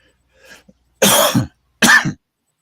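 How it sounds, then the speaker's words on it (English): A person coughs twice, two sharp, loud coughs close to the microphone with a short gap between, following a faint soft sound. "As I cough."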